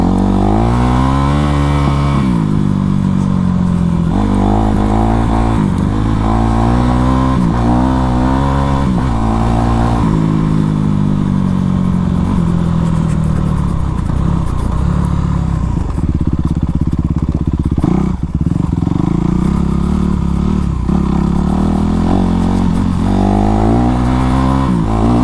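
Honda CRF450 four-stroke dirt bike ridden around a track, its engine loud and close throughout, repeatedly revving up and dropping back as gears change, with occasional thumps and clatter.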